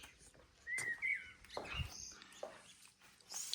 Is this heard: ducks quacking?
no